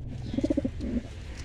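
A pigeon brooding on its eggs coos in a short run of soft, low, rounded notes, then gives a longer drawn-out coo, close by and on its own without talk.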